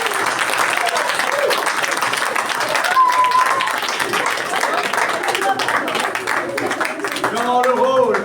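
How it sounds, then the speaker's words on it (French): An audience at a stage performance breaks into sustained, loud applause, thick continuous clapping from many hands with voices calling out over it. "vous pouvez les applaudir"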